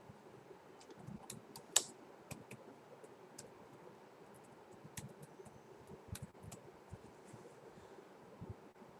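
Quiet, irregular keyboard clicks and taps of typing on a computer, close but faint over a soft background hiss, with one sharper click early on.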